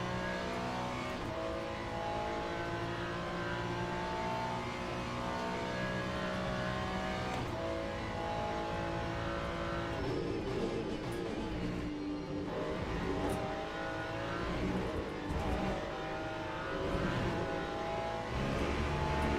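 Ferrari GT3 race car in the Le Mans Ultimate sim racing game, its engine droning steadily and rising and falling through gear changes, loud and continuous with no talk over it.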